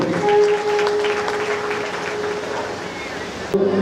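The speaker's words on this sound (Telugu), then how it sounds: "లేచి నిలబడి వారిని ఆహ్వానం తెలియజేద్దాం చప్పట్లు కొడుతూ" Applause rises for MLA Prashanth Reddy arriving at a Christmas celebration in Balkonda, a dense continuous patter of clapping from a gathered crowd with a steady tone and voices underneath, ending in a sharp knock.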